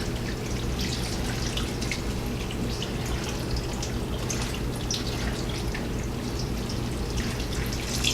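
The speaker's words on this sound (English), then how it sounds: "Then we're going to pour water, fill our bowl with water." Water poured into a bowl over brined pickle slices for canning, a steady continuous splashing trickle, close and even throughout.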